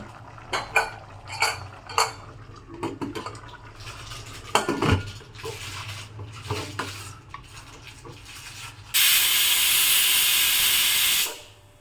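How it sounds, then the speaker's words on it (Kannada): A cooking pot of green gram pulao clatters with a run of metallic clinks and scrapes as its lid is handled and set down, followed by a loud, steady hiss of steam for a few seconds before it cuts off. "ಈ ಹಂತದಲ್ಲಿ ನಾವು ಲಿಡ್ಡನ್ನು ಕ್ಲೋಸ್ ಮಾಡೋಣ"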